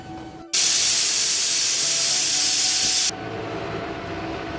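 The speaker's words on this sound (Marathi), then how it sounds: "आपण डाळ भाताचा कुकर लावून घेतला आहे" Pressure cooker holding dal, rice and potatoes letting off a loud, steady blast of hissing steam for a few seconds before it cuts off abruptly, leaving a quieter hiss.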